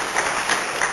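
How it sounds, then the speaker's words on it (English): Audience applause in a lecture hall, a steady dense wash of clapping at moderate level with no voices on top. "I want a little bit of applause."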